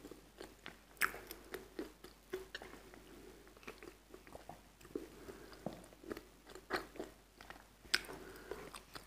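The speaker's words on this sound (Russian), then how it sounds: "Хруст глухой, немножко залипает." Dull, slightly sticky crunching of a snack being chewed close up, with repeated irregular bites and chews over about nine seconds and no talking.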